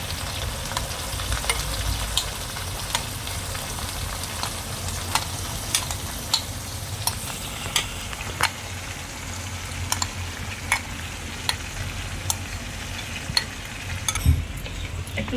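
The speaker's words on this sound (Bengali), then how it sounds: "এবার আমি ওই 3টে মতন পেঁয়াজ বেটে রেখেছিলাম সেটা এই তেলের মধ্যে দিয়ে দিচ্ছি।" Ground onion paste frying in hot oil in a pan for a paneer curry, a dense continuous sizzle with frequent clinks and scrapes of a stirring spoon, close and fairly loud, with no voices.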